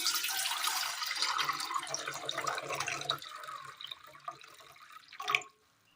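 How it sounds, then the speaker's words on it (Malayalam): Water is poured into a pot set on a stove, a steady splashing pour lasting about five seconds that eases toward the end with a brief clink, with no talking. "ഒരു പാത്രം അടുപ്പത്ത് വെച്ച് കൊടുത്തതിന് ശേഷം അതിലേക്ക് ഒരല്പം വെള്ളം ഒഴിച്ചു കൊടുക്കാം"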